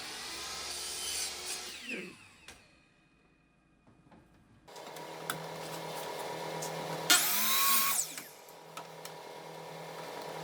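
A saw cuts wood trim at a 45-degree angle for picture-frame wainscoting panels. Two rasping cutting passes sound up close, separated by a quiet gap, with a brief high-pitched whine during the second pass.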